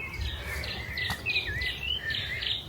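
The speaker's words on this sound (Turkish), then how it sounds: "Kuşları duyuyor musunuz?" Several birds sing in a garden, trading clear, bright chirps and whistling phrases at a moderate distance above a soft background hiss.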